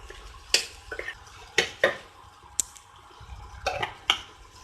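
Banana flower paruppu usili frying with ghee in a pan is stirred in a run of sharp metallic clinks and scrapes from the spatula against the pan, spaced irregularly over a soft background.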